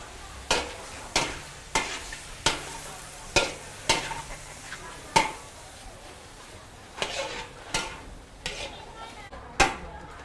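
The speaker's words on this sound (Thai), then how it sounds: "เราก็จะเอาเนื้อแกะเนี่ยเนื้อแกะมาลวนก่อนแหมกระทะใหญ่" Lamb sizzles as it is stir-fried in oil in a large restaurant pan. A utensil scrapes and clanks against the metal in a steady, repeating rhythm over a constant background sizzle.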